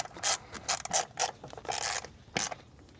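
A small metal nut inside a plastic valve cover being tightened, heard as a series of short close scraping, ratcheting bursts in an uneven rhythm.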